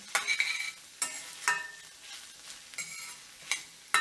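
Aromatics sauté in a pan for a quick fish curry, a soft sizzle broken by several distinct metallic spatula scrapes and taps against the pan at irregular intervals.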